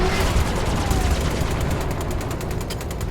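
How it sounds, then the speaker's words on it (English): Continuous rapid machine gun fire from the video game Star Citizen, dense and loud with no pauses, forming a steady crackling roar throughout. "your left click is the machine gun"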